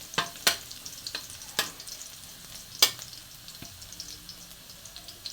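Garlic fries in a pan with a low, quiet sizzle while a utensil scrapes and taps against the pan in irregular clicks as it is stirred.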